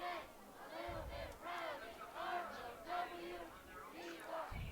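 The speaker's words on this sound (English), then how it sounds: "So you can hear the crowd, Standley Lakeside, right in front of us." A high school football crowd at a Standley Lake vs Green Mountain game yells and chants in loud, repeated rising bursts, a steady roar of many voices filling the stands throughout.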